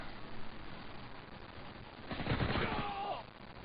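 MP5K submachine gun firing in Modern Warfare 2 multiplayer: a short rapid burst in the middle, fairly close, over steady game ambience.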